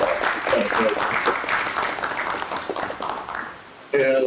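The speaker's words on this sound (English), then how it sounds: "please join me in giving them a round of applause" Audience applause following an introduction at a space communications infrastructure and sharing economy session, steady dense clapping for about four seconds with a brief voice breaking in at the end.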